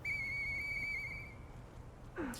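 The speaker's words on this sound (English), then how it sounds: "you basically just gotta grab the whistle that you picked up on the bench" A steady high whistle blown in the video game Lies of P rings out clearly with bright overtones for over a second, then cuts off, leaving a short rising squeak near the end.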